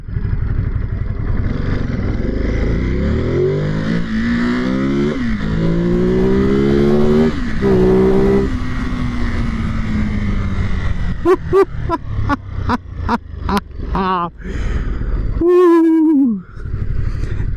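A 2021 Ducati Monster Plus in sport mode accelerates hard, its engine note climbing through the revs in rising sweeps with quick upshift breaks, followed by rapid throttle blips and a falling rev, loud and close.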